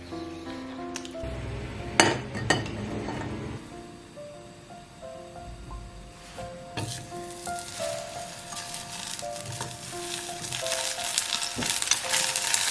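Rice cakes (niangao) pan-frying over low heat, a soft, steady sizzle punctuated by sharp clinks and scrapes of a utensil against the pan, fairly quiet and without talk.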